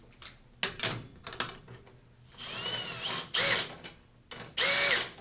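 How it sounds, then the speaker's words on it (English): A power drill drives a wrench to unthread a reverse osmosis housing lid in several short bursts, each whirring up and ratcheting, separated by brief clicks and pauses, close and loud. "I'm going to take my wrench and my drill."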